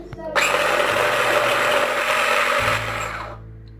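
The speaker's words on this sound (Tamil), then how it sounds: "இதை வந்து இந்த மாதிரி சாப்பரில் சேர்த்துக்கிட்டு நல்லா வந்து சாப் பண்ணி எடுத்துக்கிறேன்" An electric food chopper whirs loudly as it chops cooked tandoori chicken, a steady close motor roar for about two and a half seconds that shifts pitch and then winds down.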